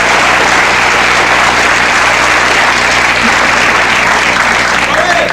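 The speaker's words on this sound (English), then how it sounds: "See, I'm pretending that applause is for me." A late-night television studio audience bursts into loud, dense, continuous applause that holds steady without letup throughout.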